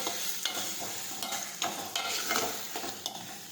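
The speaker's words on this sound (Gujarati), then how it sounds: "હવે આપણે સમારેલા ટમેટા નાખીશું. ફરી પાછું આપણે સાતળી લઈશું." Chopped tomatoes sizzle and fry in a pan for sev tameta nu shak, with a steady hiss broken by repeated stirring scrapes and clinks, close and alone with no talking.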